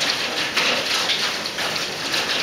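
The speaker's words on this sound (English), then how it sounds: "Looks like we're getting a little snow, but it's not snow, it's hail." Pea-size hail falls during a severe thunderstorm in Dallas, a dense, steady hiss of countless small impacts pattering close by without pause.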